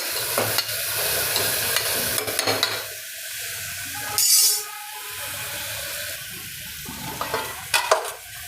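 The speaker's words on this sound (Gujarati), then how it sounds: "હવે આ બધું શાકભાજી આપણે મિક્સ કરશું" Vegetables are stirred in a pan for mung bean pulao with a steady sizzle of frying, scraping and clinking of a spoon against metal, close and continuous with a few louder clanks.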